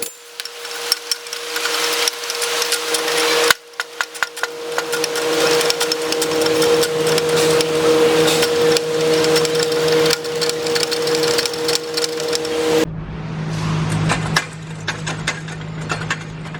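Wheel bearing on a 2000 Honda Civic being hammered out of the steering knuckle with a punch, a rapid series of loud metallic impacts over a steady machine whine, ending in a lower rumbling hum.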